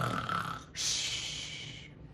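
A teacher's voice imitates heavy snoring, giving one raspy rumbling inhale and then a breathy snort-like exhale. It is short, close and alone.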